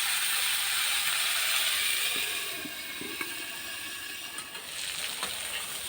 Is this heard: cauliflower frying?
yes